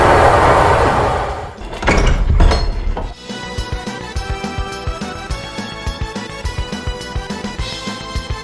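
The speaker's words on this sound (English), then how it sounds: "slamming the door shut once again." A door slams shut as a sound effect, a heavy, loud thud with rattling noise, followed by rhythmic background music that carries on alone.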